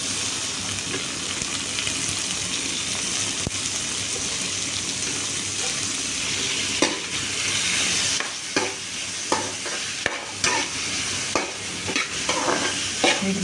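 Onions and tomato pieces fry in a pan, a continuous close sizzle with stirring scrapes and soft clatter growing more frequent toward the end.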